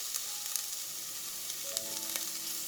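Onions and green cabbage frying in oil in a pan, a steady hiss of sizzling with faint crackles and small pops throughout, close and continuous with no one talking.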